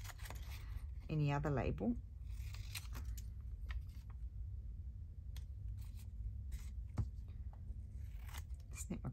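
Scissors snipping out painted and stamped paper labels, a few short close crisp cuts, with someone talking quietly in between.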